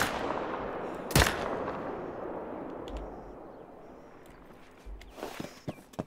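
A single loud, sharp gunshot from a hunting rifle in The Hunter: Call of the Wild, trailing into a long fading echo over the outdoor ambience, with a few faint clicks near the end.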